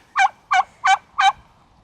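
A large turkey near chickens at a farm in Watkins Woolen Mill State Park, Missouri, gobbles four times in quick, evenly spaced bursts, close and clear, with no voices over it.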